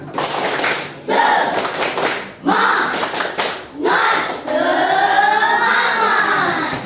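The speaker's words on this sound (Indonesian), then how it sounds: "Tepuk semangat." A fifth-grade primary school class in Kepahiang, Indonesia, performs a rhythmic group spirit clap, bursts of loud clapping in repeated patterns broken by short pauses, with children's voices chanting or shouting along near the end.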